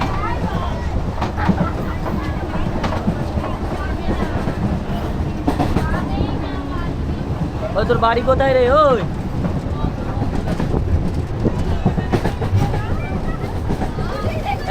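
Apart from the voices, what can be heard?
moving passenger train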